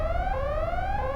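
Alarm in the Xenosaga video game sounding steadily throughout, a looping electronic tone with layered harmonics that glide slowly, loud and continuous with no pauses.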